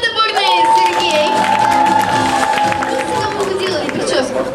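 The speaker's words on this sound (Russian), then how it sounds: "Аплодисменты бурные, Сергей!" Audience applause and cheering on board the cruise ship Fyodor Gladkov, a loud crowd clapping with mixed voices and chatter throughout, close and continuous.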